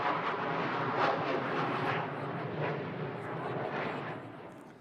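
A jet aircraft roars overhead during an outdoor 9-11 memorial ceremony in Fresno, a broad, loud, sustained rumble that slowly fades toward the end.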